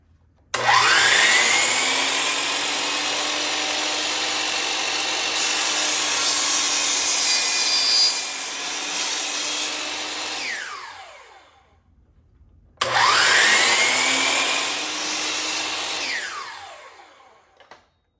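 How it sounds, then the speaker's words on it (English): A power saw cuts a wooden stair handrail to length during a newel post and handrail installation, sounding as a loud, continuous whining cut of about ten seconds that spins down, then a second shorter cut after a pause. "I'll cut that nice and straight, nice and clean."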